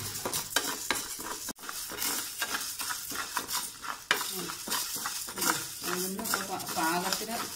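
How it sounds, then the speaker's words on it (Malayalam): A spoon scrapes and stirs urad dal as it roasts in a pan, with continuous close scraping, light sizzling and occasional metallic clinks against the pan. "ഉഴുന്ന് വറുത്ത് പതുക്കെ ചുമന്ന കളറ് ആവുന്നത് വരെ നമുക്കിങ്ങനെ ഇളക്കിക്കൊണ്ടിരിക്കണം"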